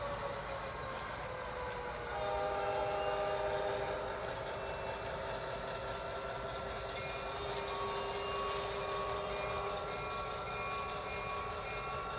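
An HO scale model train hums and clicks along steadily while switching, with faint whining tones and a slight swell in volume partway through; no talking.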